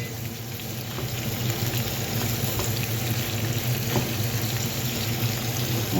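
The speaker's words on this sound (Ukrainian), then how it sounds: "Тепер висипаю порізаний перчик. Теж трошки перемішую." Chopped peppers sizzle in a pan for vegetable pilaf, a steady, fairly quiet frying hiss with faint scraping as they are stirred, no talking.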